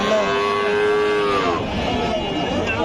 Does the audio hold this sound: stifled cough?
no